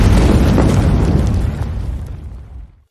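A loud, heavy landmine-style explosion booms close by and rolls on with a broadband roar, then fades out over about three seconds.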